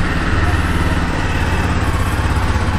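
A Jawa Bobber 42 motorcycle engine runs close by with a steady, loud, throbbing mechanical drone for a few seconds, alone.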